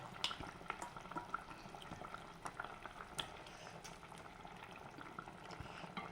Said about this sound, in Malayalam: കറി നന്നായി തിളച്ച് വരുന്നുണ്ട്